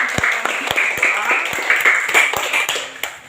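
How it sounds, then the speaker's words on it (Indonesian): A classroom of students applauding a classmate, a burst of many hands clapping in an uneven, brisk rhythm, fairly close and loud, with voices murmuring underneath. "Tepuk tangan buat teman yang sudah membawakan kita."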